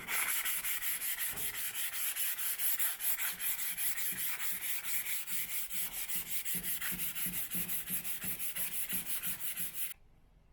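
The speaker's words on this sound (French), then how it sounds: "Donc là, je m'occupe du ponçage" A Simca Aronde car interior is hand-sanded with 320 grit paper in fast, rhythmic rasping strokes. The strokes come close and loud and repeat evenly for about ten seconds before stopping abruptly, with no talk.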